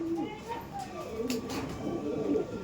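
Kaldom pigeons in a loft cooing in soft, repeated low murmurs, close by, with someone talking over them throughout.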